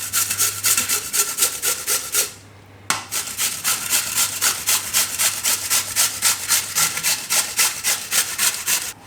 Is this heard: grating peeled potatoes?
yes